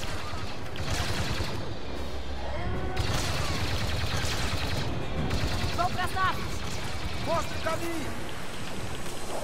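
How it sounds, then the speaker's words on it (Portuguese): Blaster gunfire in the Star Wars Battlefront II video game, dense bursts of rapid shots over a constant rumble of battle, with talk woven through the firing. "Eles não param de vir! Então, continue atirando!"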